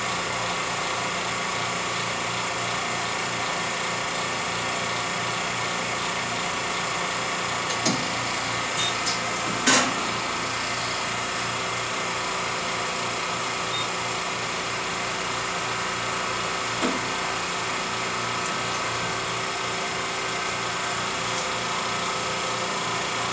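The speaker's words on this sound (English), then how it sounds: "Now it'll release the vacuum chamber and then move the Z-axis back down for unloading." A steady mechanical hum of a Karl Suss MA6 mask aligner with a faint whir, broken by a few soft clicks and a brief hiss as it releases vacuum and lowers its stage.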